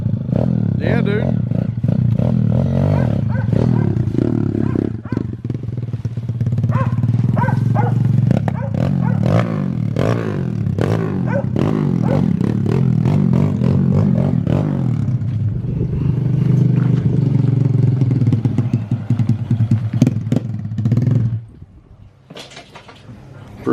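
A Kawasaki KLX 110 pit bike fitted with a manual clutch runs and revs close by, its rough, throbbing engine note rising and falling under ongoing conversation before cutting out near the end.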